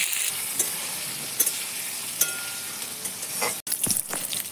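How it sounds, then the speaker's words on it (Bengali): Pointed gourd frying in oil with salt and turmeric over a wood-fired clay stove, a steady close sizzle with occasional stirring clinks and scrapes. "পটলগুলোকে আমি লাল লাল করে ভেজে নেব। একটু লবণ, সামান্য পরিমাণ হলুদ দিয়ে ভালোভাবে ভেজে নেব।"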